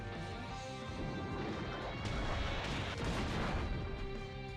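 A Seed Bomb attack in Pokémon Y lands as a string of crashing, booming impacts over the game's tonal music, loud and continuous across the moment.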